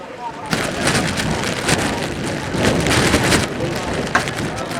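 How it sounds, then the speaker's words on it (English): Rain falling steadily on an outdoor rugby field during a Heartland Championship match, a dense hiss of drops under a commentator's voice, loud and continuous throughout. "The rain comes down again."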